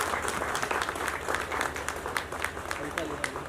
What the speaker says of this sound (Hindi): पुरजोर तालियों से इस्तकबाल करें।